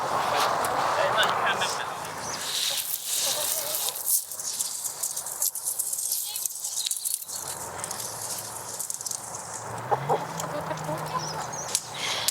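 Chickens cluck and murmur close by amid steady rustling and patter, while a person talks over them.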